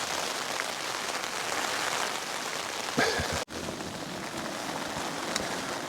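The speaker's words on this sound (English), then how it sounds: "the wind is driving the rain in from the tarn side" Steady, dense rain drums on a Taiji 2 tent during a storm at a tarn-side camp, a continuous close hiss of drops on fabric with one brief dropout near the middle.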